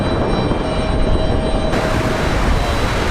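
An airliner takes off from Raleigh-Durham International Airport on a short flight to Roanoke, with a loud, steady engine roar and rushing wind noise close by.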